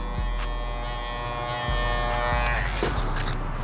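An electric hair clipper buzzes steadily and close while trimming hair fed through a comb during a low mid taper haircut, the motor tone shifting slightly as it cuts, with no speech over it.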